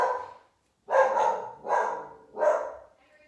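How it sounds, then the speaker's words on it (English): A dog barks indoors during a quiet meditation session, one short bark and then three loud barks in a fairly steady rhythm, close by with no talk. "so that's my dog, Henry"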